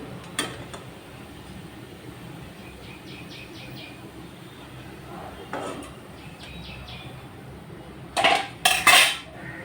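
Metal utensils clatter against a pan as fried churma dough pieces are lifted out of hot oil for Rajasthani churma laddu, scattered clinks and scrapes ending in a loud burst of clanging.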